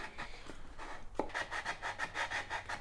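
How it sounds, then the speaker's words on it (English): Repeated rasping strokes of sandpaper rubbing against the edges of a wooden Chevy logo, a steady back-and-forth rhythm close by, with a brief sharper scrape partway through. "You're just sanding all the edges down?"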